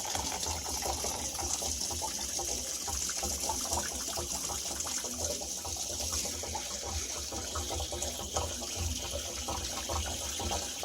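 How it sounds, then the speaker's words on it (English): Water steadily draining from a boiler tank, a continuous broadband rush that stays even and moderately loud throughout, with no talk. "I have to drain the tank."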